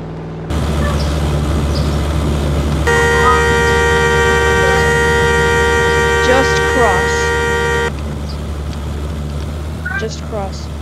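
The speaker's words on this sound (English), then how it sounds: "Oh, I hear a car alarm outside." A car alarm sounds from outside as a steady electronic tone that holds for several seconds and then stops abruptly, with a low vehicle hum underneath and brief speech nearby.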